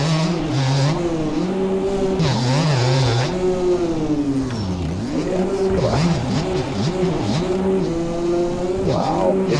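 Several two-stroke dirt bike engines rev and rip in the motocross game MX Bikes, their buzzing pitch rising and falling continuously as throttles open and close, loud and close with no talking.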